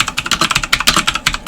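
Fast typing on a computer keyboard, with close, crisp key clicks in a quick, uneven rhythm and no pauses.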